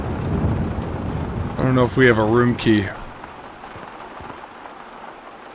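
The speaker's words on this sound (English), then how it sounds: "I love the rain and thunder." Steady rain with low thunder rumble in a video game setting, a constant soft hiss under a man's brief spoken remark in the middle.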